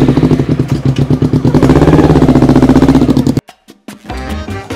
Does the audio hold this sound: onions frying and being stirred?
no